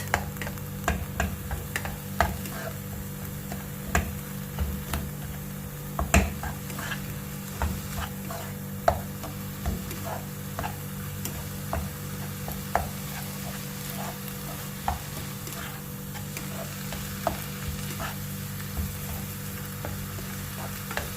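Hashwe filling for grape leaves being stirred in a bowl, a continuous soft scraping with regular light ticks and taps of a spoon, moderately quiet and without speech.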